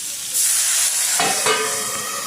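Bitter gourd steaming in a covered pan, a steady close hiss of vapour with a brief sharper burst of sizzle midway, no talking.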